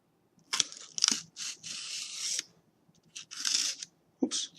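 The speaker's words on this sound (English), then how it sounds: "Now let's do a cut here. Another cut here." Scissors snip through material in a series of crisp, close cuts, several quick bursts with short pauses between, made while building a kinetic sculpture.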